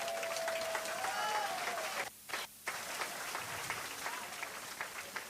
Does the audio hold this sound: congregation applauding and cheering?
yes